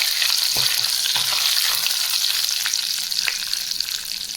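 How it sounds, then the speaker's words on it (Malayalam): Chillies and curry leaves fry in hot oil for a rasam tempering, a loud continuous close-up sizzle broken by occasional stirring scrapes, with no talking. "ആ മുളകിൻ്റെയും കറിവേപ്പിലേൻ്റെയും കളറൊന്ന് മാറി വരുന്ന വരെ നമ്മളൊന്ന് ഇളക്കി കൊടുക്കാം"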